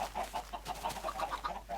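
Minecraft chickens cluck in a quick, steady run of short, bright calls that repeat throughout, close and clear with no talk over them.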